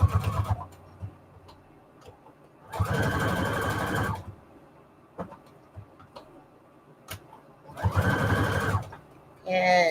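A sewing machine runs a very short straight stitch through fabric scraps in two loud bursts of rapid mechanical chatter, with quieter stretches and small handling clicks between them.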